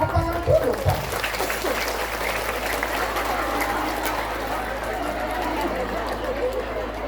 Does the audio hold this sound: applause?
yes